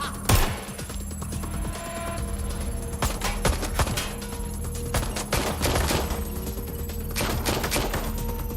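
Gunfire in the video game Watch Dogs: Legion rattles in repeated sharp bursts and single cracks over a steady background hum, loud and dense across the whole stretch with no talk.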